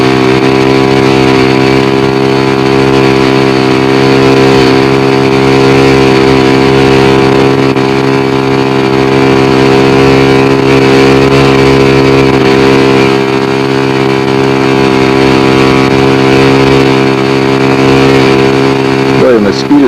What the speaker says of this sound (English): I hope we can get a good feel for the engine run right here.